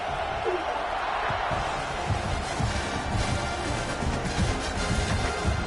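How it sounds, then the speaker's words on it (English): A football stadium crowd buzzes steadily after a score, a dense, distant roar of many voices with a play-by-play commentator talking over it. "this crowd is buzzing after that last score"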